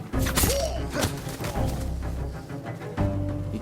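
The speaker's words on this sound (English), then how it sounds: "now we can throw a grenade" A grenade thrown during combat in Ghost of Tsushima, heard as a dense, loud stretch of thuds, whacks and crashing impacts with a brief swish, all layered over game music and battle noise.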